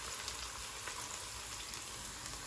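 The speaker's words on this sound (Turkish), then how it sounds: "Doğradığımız soğanları ilave edelim ve kavuralım." Chopped onions sautéing in oil in a pot, a steady, even sizzle and crackle that holds at one level throughout, close by, with no talk over it.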